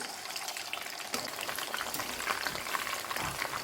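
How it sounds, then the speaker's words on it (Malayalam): Korean chicken pieces being refried in hot oil for a sweet and spicy dish, giving a steady crackling sizzle throughout that grows slightly busier after the first second, with no talking. "എന്നാലും ഒന്നും കൂടി നമ്മളിതിനെ വീണ്ടും ഒന്നും കൂടി ഫ്രൈ ചെയ്യുന്നുണ്ട്"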